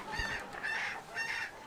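Chickens clucking softly in a chicken coop during winter chores, a few short repeated calls in a quiet, fairly faint sequence with no talk.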